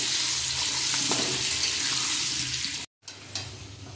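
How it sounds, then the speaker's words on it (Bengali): Potatoes frying in oil in a home kitchen pan give a steady sizzle with faint stirring, broken by a brief silent gap before the frying resumes. "এখন মিডিয়াম আছে, আলুগুলো ভেজে নেব।"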